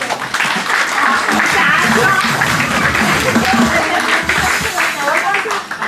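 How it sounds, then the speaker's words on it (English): Sustained audience applause fills the room at a Yap presentation during an expo in Pohnpei, loud and dense for several seconds with crowd noise and voices mixed in. "Another round of applause."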